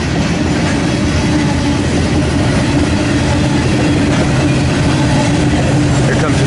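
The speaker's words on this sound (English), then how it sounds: "this is a mega manifest heading west here in Fremont, Nebraska, on the Union Pacific Transcon line" Union Pacific mega manifest freight train heading west on the Transcon line in Fremont, Nebraska, rumbling past steadily and loudly with dense rolling noise throughout.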